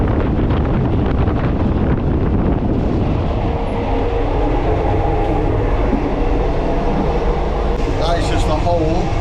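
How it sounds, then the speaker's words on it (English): Overnight train from Chiang Mai to Bangkok rumbling along its tracks, a loud, dense roar of wheels and carriage noise with wind buffeting the microphone, steady throughout. "So we are on the night train."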